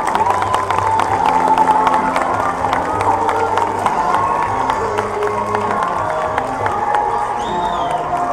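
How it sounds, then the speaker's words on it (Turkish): A crowd at a school 19 Mayıs show in İzmir claps and cheers in a loud, continuous wash, with children's shouts and voices mixed through it. "Evet, güçlü bir alkış istiyorum."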